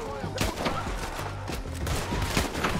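Rapid gunfire in Red Dead Redemption 2 crackles in dense overlapping bursts, several sharp shots close together, with voices talking underneath throughout.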